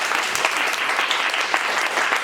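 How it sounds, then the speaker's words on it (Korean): An indoor audience at a Korean peer-support program demonstration claps loudly and steadily, a dense burst of applause with no voices over it. "박수 한번 부탁드리겠습니다"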